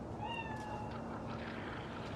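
A single short meow from a cat in the video game Cyberpunk 2077 rises early, then fades into a low, steady background hum.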